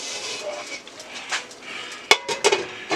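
A lid clatters onto a pot of gator tails and rice set to a very low simmer, with a few sharp metallic knocks near the end over a soft background hiss.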